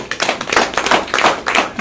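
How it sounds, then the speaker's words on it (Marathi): An audience at a motivational business seminar applauds loudly and steadily, a dense close burst of many hands clapping throughout. "सरांसाठी जोरदार टाळ्या."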